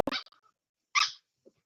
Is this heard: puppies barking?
yes